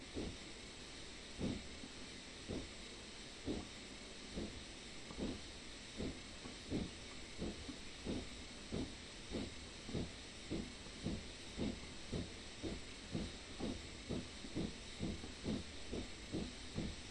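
Steam locomotive pulling away from Ribblehead toward Settle in Train Simulator 2021, rhythmic chuffs gradually quickening over a constant loud steam hiss, with no talking.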